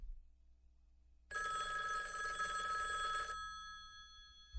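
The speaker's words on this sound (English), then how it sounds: "Hey, Harvey, answer the phone." A telephone bell rings once in a bright, sustained trill for about two seconds after a quiet start, then stops.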